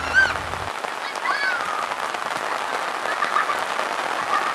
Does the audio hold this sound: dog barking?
no